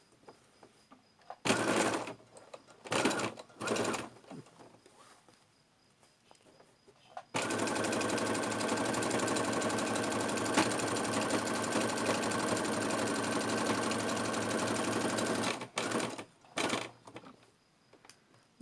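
A sewing machine runs steadily for about eight seconds, stitching a pocket onto a fabric bag. Short bursts of stitching come before and after that run, loud and close, with no talk.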